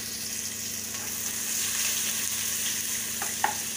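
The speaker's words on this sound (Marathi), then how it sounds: "आता आपण कांदा तळून घ्यायचा आहे चांगला." Sliced onions frying in oil for a thin poha chivda, a steady broadband sizzle throughout with a couple of faint clinks near the end, close and alone without talk.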